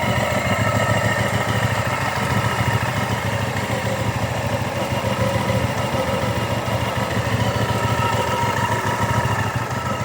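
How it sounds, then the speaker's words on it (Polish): A 2015 Hyosung ST7 700i motorcycle, a low-mileage bike, idles steadily, its engine holding an even, unbroken rumble close by with no voices over it. "Motocykl zapala na dotyk. Pracuje naprawdę wzorowo."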